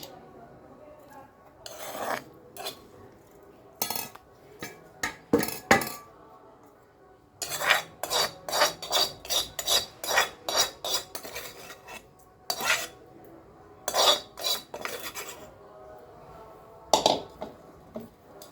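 Cooked rice tipped into a pan for fried rice and stirred with a metal spatula, giving sharp scraping and clinking strokes in quick irregular bursts, with a steady run of rhythmic scrapes in the middle.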